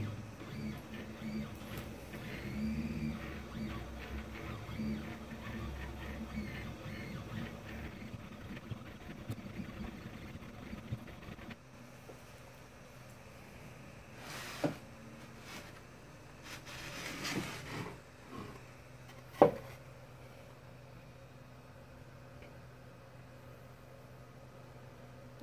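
A laser engraver run with EleksCAM software cuts a vector trace at 2,000 mm per minute and full power, a low steady whirring hum with a few short clicks and bursts, faint and close with no talking.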